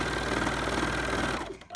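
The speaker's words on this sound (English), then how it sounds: "let's go back here and give it a serge." A serger stitching through thick fleece runs at a fast, steady mechanical chatter for over a second, loud and close, then cuts off abruptly at the end.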